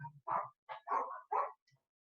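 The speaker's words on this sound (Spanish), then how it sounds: "no sé si escuchan a los perros ladrar" Several dogs bark outdoors somewhere beyond a room, giving about four or five short barks in an irregular burst, moderately faint and with no talk over them.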